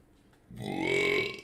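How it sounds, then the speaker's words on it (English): A single loud, drawn-out belch from a man rises sharply after a moment of quiet and holds for about a second before fading. "With that last belch to go onto the recording"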